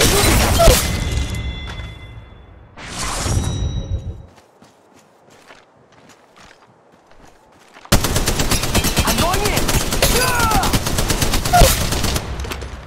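Gunfire in the Apex Legends Mobile battle royale game on the Olympus map: loud bursts of shots in the first seconds, a quiet lull, then sustained dense rapid fire with clatter to the end.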